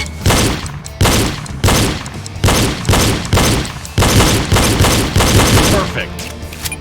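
Pistol shots fired in quick succession during a reload drill, about ten loud, close reports spaced roughly half a second apart, each with a short echoing tail, ending in softer handling noise.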